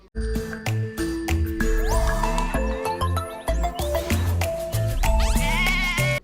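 Lamb bleating in an animated TVN Easter channel ident: several loud, close bleats mixed with bright jingling bells, chimes and sweeping musical tones in a busy, continuous sequence without speech.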